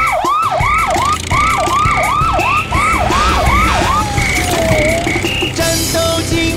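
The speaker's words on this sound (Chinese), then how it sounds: "战斗警报声响起，警车全速出击" Cartoon police car siren from a children's song, a loud rapid wailing whoop repeating about ten times with a steady high tone alongside, then a falling sweep and short beeps over music.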